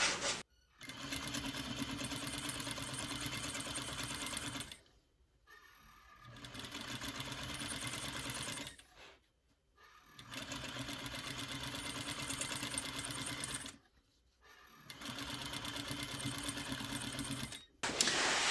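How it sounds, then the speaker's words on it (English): Sewing machine stitching close to the edge of a color-blocked clutch bag lining, running in three long steady bursts separated by short pauses, loud and close with no talk. "And you're going to sew real close to that edge."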